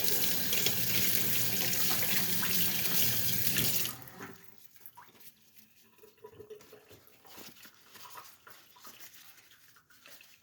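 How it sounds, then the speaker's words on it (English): Running tap water pours loudly over a gold-plated ring being rinsed at a sink, a steady gush that cuts off after about four seconds, leaving faint handling clatter and drips. "we're going to rinse the ring"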